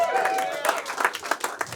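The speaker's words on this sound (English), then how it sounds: "Round of applause for the high person back there." Scattered audience clapping at a standup comedy show, a short burst of applause mixed with crowd voices and laughter, fairly close and moderately loud.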